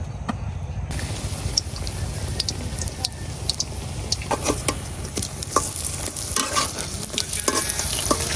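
Pumpkin-leaf fritters made with ground masoor lentil paste frying in oil, a close, continuous bubbling sizzle with sharp spits and pops that grow livelier as water hits the oil, along with occasional stirring.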